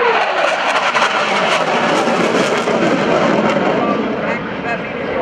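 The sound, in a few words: F/A-18C Hornet jet flying at an airshow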